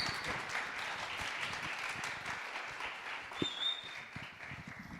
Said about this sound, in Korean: 우리 강사님을 따뜻한 사랑과 축복의 박수로 모시겠습니다.